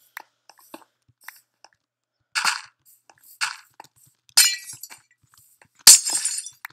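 Blocks broken by hand in Minecraft give a few short crunching, cracking bursts at intervals, with faint clicks between them and no talking.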